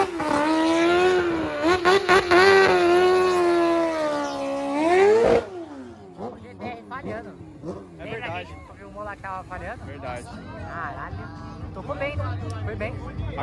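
An Audi TT RS and other cars in a street race rev and accelerate hard, a loud rising engine whine that swells for several seconds and then cuts off. Voices chatter over quieter engine noise afterward.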